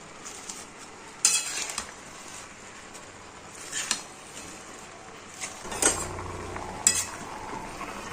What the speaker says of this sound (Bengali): একটু করে দিয়ে আর একটু করে নাড়িয়ে দেবো, মানে ওপর নিচ করে দেবো